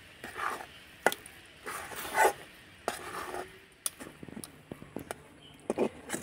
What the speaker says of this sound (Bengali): এবার মিডিয়াম টু লো আঁচে করে নাড়াচাড়া করব আর ডো বানিয়ে নেব।